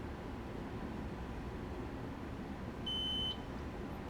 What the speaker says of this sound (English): That was a beep. There's definitely a beep there.